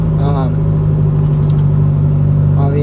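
A rebuilt Honda Del Sol engine with low-compression pistons runs smoothly, giving a loud, steady, deep hum with a faint rise in pitch partway through, while a person talks over it.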